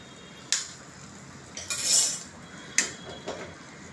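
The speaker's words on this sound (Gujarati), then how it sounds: "આ રીતે હલાવીને બધો મસાલો મિક્સ કરવાનો" A metal spoon stirs dabeli masala in a pan, giving a few distinct scraping clinks and a longer scrape against the pan, set against a quiet kitchen background.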